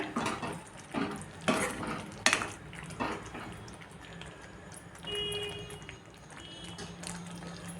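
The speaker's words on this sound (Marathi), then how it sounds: "हे मिक्स करून घेऊया" A spoon stirs and mixes vegetable korma with crushed kasuri methi in a cooking pan, giving uneven scraping and clinking strokes over a soft, steady background hiss.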